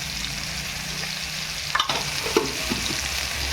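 Asafoetida hits hot oil in a pan and gives a steady, close sizzle with a few brief clinks and stirring scrapes near the middle.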